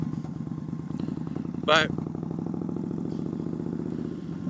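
An Indian Scout Bobber motorcycle rides on new Michelin Commander II tires, its engine a steady low pulsing rumble close by, with someone talking over it and a short burst of wind or clatter.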